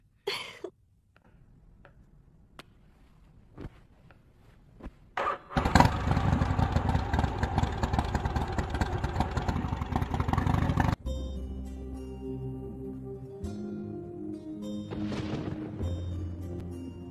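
A motorcycle engine cranks and catches, then runs with a steady loud idle and rumble for several seconds before the sound cuts to another scene with a different engine tone.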